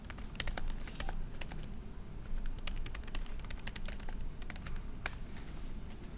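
Computer keyboard typing runs steadily for about six seconds, dense irregular key clicks close to the microphone over a low background hum, with no voices.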